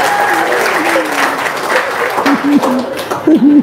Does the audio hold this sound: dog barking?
no